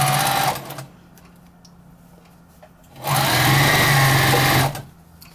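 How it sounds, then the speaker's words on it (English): Sewing machine top stitching around a quilted potholder, a loud steady whirring hum in two runs, one brief at the start and a longer burst later, with quiet pauses between. "now I'm going to top stitch all the way around."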